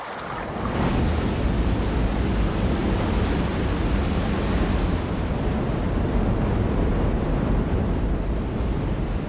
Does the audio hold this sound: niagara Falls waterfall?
yes